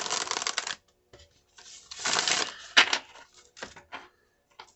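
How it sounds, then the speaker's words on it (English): A deck of tarot-style oracle cards being shuffled by hand, with two bursts of riffling crackle separated by pauses and a few lighter taps and flicks of cards, close and fairly quiet. "Give it a shuffle."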